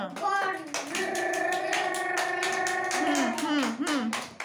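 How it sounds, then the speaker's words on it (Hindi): Children at an anganwadi centre clap their hands in a steady rhythm while their voices chant or sing along loudly throughout. "ताली मारो"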